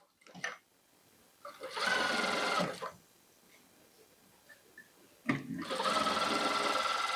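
A sewing machine stitches a pocket onto a kurti in two close, steady runs, each lasting about a second or more, with a short click before each run and quiet handling between them.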